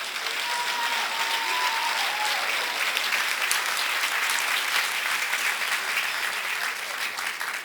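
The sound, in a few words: audience applause for graduating class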